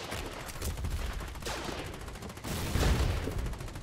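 Rapid gunfire fills a firefight in the video game War 88, with bursts of automatic shots rattling close and loud, the heaviest volley near the end.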